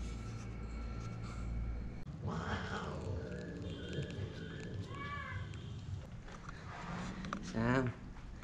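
A tomcat meows several times in a room, with short drawn-out cries scattered across the span and a louder yowl near the end, mixed with people talking nearby.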